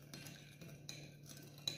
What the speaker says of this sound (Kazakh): Осыны араластырып аламыз